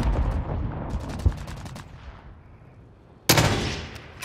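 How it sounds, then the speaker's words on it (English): Call of Duty gunfire: bursts of rapid shots crack out in a dense opening volley, then a single sharp report, a quieter lull, and another loud burst near the end, all without speech. "they're shooting over there, to the right"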